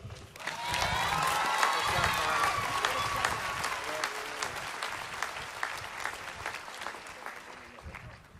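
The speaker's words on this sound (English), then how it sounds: "Please join me again in a round of applause for our amazing senior class speakers." A crowd at a college commencement ceremony bursts into applause that holds strong, then gradually thins into scattered claps; a few faint cheers mix in near the start.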